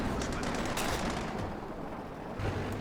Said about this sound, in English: A close range shot here completely whiffs